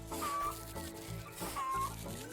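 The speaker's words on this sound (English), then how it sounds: "chickens sort of sit there, being chickeny" Chickens in the farming video game Avatar Farm Online give two short clucking calls, close and clear, over light game background sound.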